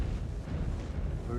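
Weapons fire in the mech combat game Mechwarrior 5: Clans comes as a dense, low rumbling barrage of booms and blasts, continuous and heavy throughout the brief moment.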